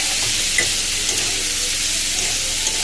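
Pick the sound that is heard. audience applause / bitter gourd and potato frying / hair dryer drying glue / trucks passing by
bitter gourd and potato frying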